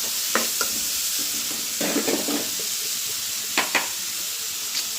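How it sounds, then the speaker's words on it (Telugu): A spoon stirs salted curry in a sizzling pan, with steady frying hiss and a few scraping clinks of utensil against metal, close and fairly loud. "సాల్ట్ వేసుకుని అయితే కలిపిస్తున్నామండి"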